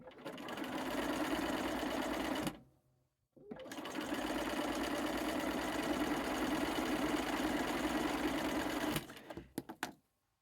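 Sewing machine chain stitching strips of quilt fabric, a steady loud whirring run of about two and a half seconds, a brief pause, then a longer continuous burst before slowing to a few short stitches and stopping.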